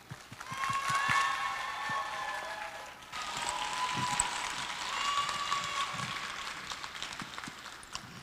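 Live show audience applauding warmly, steady sustained clapping spread across the room, with a held musical tone and scattered voices ringing over it.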